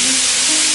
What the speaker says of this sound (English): You can hear them sizzling and smoking as they hit that pan.